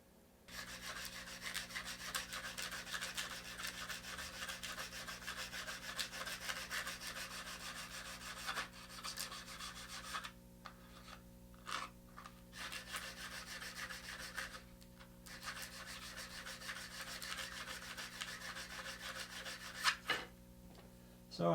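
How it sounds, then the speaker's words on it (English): Sandpaper rubs on the wood of a Squier Affinity guitar in steady back-and-forth strokes, fairly quiet and close, with a few short pauses between passes. "So I sand a little bit"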